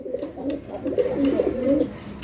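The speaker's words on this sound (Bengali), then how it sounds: "দেখছেন নরের ডাক" A male pigeon in a breeding loft gives a low, rolling coo, a short continuous burble that rises and falls, close and moderately loud over a soft ambient hum.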